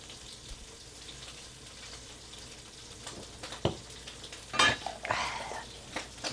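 Carbonara ingredients fry in a pan with a low, steady sizzle and soft stirring, then louder bursts of spattering and crackling toward the end.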